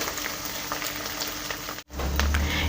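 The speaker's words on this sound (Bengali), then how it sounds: "এবার এর মধ্যে দিয়ে দেবো মশলা। মশলা দিয়ে ভালো করে এটাকে কষিয়ে নিব আরও।" Onions and a cumin, ginger and chili spice paste sizzle and fry steadily in a pan, a close, continuous crackle that is briefly cut off near the end, then resumes with a low rumbling underneath.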